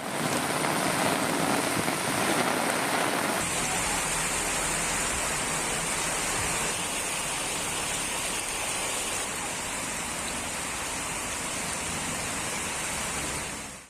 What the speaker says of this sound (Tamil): வெளுத்து வாங்கிய மழையால் சாலைகளில் தண்ணீர் ஆறாக ஓடியது.